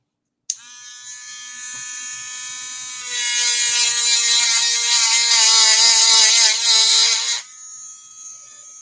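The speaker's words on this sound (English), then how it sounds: "And now you're going to hear my Dremel." Dremel rotary tool whirring against a piece of jewelry, a steady high-pitched motor whine that starts abruptly, rises in intensity as it bites into the metal and stone, then cuts off, close and loud with no talk.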